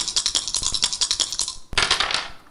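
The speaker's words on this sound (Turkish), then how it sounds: "Şurada bir zar atacağız." Dice clatter and rattle rapidly across a hard surface during a TV word game show, in a quick burst of clicks, a brief pause, then another tumbling roll settling down.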